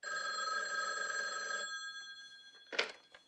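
A telephone rings in a horror movie scene: a sustained, buzzing ring lasts over a second and a half and then stops, followed by a short sharp noise in the quiet.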